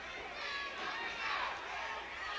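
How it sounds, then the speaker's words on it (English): A Mid South Wrestling arena crowd hollering and cheering for Junkyard Dog during a tag match, a steady roar of many voices rising and swelling, heard at a distance. "Crowd is hollering for JYD"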